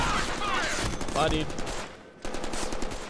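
Shotgun blasts in the Deadpool video game, loud bursts of gunfire packed into a few seconds with game effects and a voice speaking over them, then a short lull before more shooting.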